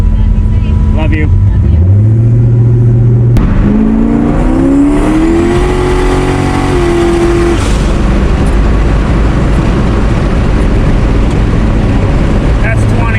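A turbocharged Lincoln Town Car revs up hard during a tuning pull. The engine note climbs steadily through the gears with a brief pause between shifts, then settles into a loud, sustained roar under the road noise.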